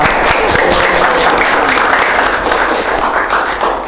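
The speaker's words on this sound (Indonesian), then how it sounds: "Tepuk tangan dulu dong." Applause from an audience at a school extracurricular talk show fills the room as a dense, loud, continuous patter of many hands, tapering slightly toward the end.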